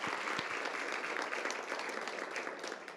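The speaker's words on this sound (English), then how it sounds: "how about a round of applause for Bishop Parker?" Audience applause for Bishop Parker at a community initiative event, a steady wash of many hands clapping, fairly loud and continuous throughout with no talk over it.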